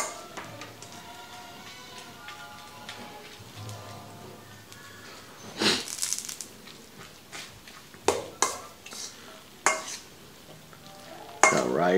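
Bibimbap being stirred and mixed in a bowl with rice and sesame oil, a steady soft scraping and squelching with a few sharper clinks of utensil against the bowl, close and moderately quiet.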